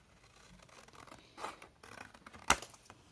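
Scissors snip paper at an angle for a scrapbook craft box: one sharp, close cut stands out above faint rustling and handling of the sheet in a quiet room.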